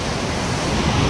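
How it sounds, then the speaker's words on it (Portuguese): Ocean waves at Camburi beach in Ubatuba, São Paulo: a dense, continuous roar of surf, loud and broad, with wind buffeting the microphone and no break in the wash. "Caramba, a onda é forte aqui"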